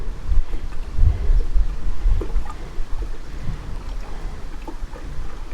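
Wind buffets the microphone during a boat trip on a lake, a constant loud low rumble with gusty swells and no speech.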